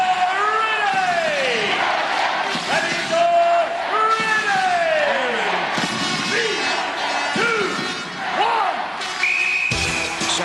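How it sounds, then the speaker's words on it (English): A capacity crowd at the Gladiators arena roars and whoops in loud, continuous waves, with rising and falling shouts and cheers filling the hall and occasional thuds and bangs beneath them. "The last Gladiator contender conflict of this season, and the capacity crowd are really up for it."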